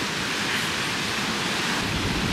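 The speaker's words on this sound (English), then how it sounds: "you've got the white sand, which is a rarity on the Brac, and you've got the beautiful ocean" Ocean waves wash steadily onto a white sand beach on Cayman Brac, a continuous broad rushing surf with some wind, heard close and fairly loud with no voices.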